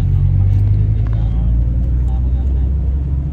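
Steady low engine and road rumble from a vehicle moving through Dubai traffic near City Walk, loud and continuous with faint passing-traffic noise above it.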